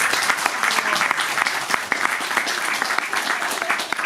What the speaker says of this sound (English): I don't know whether you're clapping because of my jokes or because of the philosophy